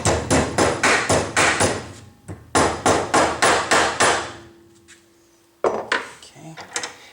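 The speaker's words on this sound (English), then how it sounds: "I just go ahead and hammer the shit out of this so that it's flat" Sharp metal-on-metal hammer blows flatten a homemade top-of-keyway tension wrench clamped in a vise, struck in two quick rhythmic bursts of about six hits each, then a pause, a faint hum and a few scattered taps.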